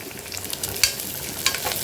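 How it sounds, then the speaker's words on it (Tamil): Onions and green chillies sauté in a pan for a village-style mutton curry, a close, busy sizzle punctuated by two sharp utensil clinks against the pan. "பெரிய வெங்காயம் இப்போ இது நல்லா வதக்கி விட்டுக்கலாம்"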